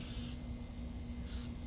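Waterproofing spray hissing onto a seam of an 8-person cabin tent, two short close aerosol bursts separated by a quiet pause.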